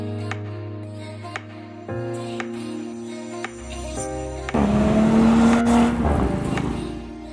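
An Audi RS 5 Coupe on a test drive: the engine hums steadily inside the cabin, then surges in a louder rising rev before easing off, with a few faint clicks along the way.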